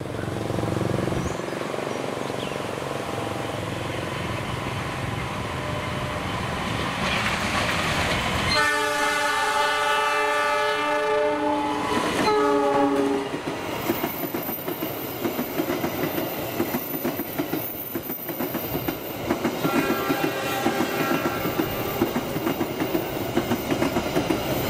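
A long-distance train passes through Cikarang station in Indonesia, with a loud horn blast sounding partway through over the steady rumble and clatter of railcars rolling by close at hand.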